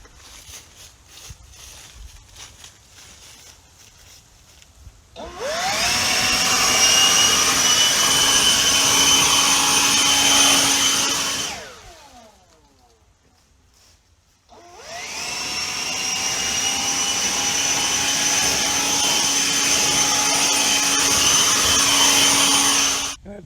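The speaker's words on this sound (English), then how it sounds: "And this leaf blower is doing a fantastic job on wet leaves." A DeWalt 60-volt cordless leaf blower, model DCBL772X1, blows wet leaves outdoors in two long, loud bursts of roaring whine lasting several seconds each, with a brief quieter lull between them.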